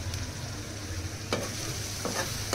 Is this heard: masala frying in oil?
yes